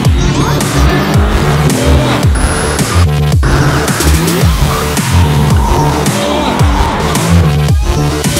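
A Mercedes-AMG GT R sports car driven hard on a racetrack, its engine roaring and repeatedly sweeping up and down through the gears, with tire squeal and skidding throughout, loud and close.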